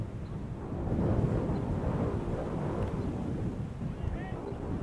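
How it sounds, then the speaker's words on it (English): Steady wind buffeting a microphone at an outdoor high school baseball game, a continuous low roaring rumble throughout with brief voices faintly underneath. "Windy enough day that this camera shot is just"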